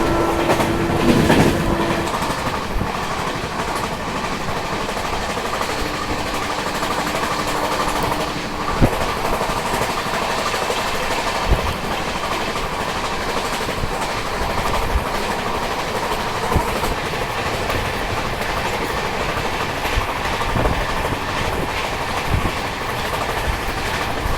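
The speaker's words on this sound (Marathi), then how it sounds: "मला असं वाटतं आपण कुरुडवाडी पोहोचायच्या आधीच त्या ट्रेनला क्रॉस करणार आहोत" Train wheels clatter steadily along the track from inside a moving express on the Pune–Solapur line, a loud continuous rumble with faint squeals, no voices.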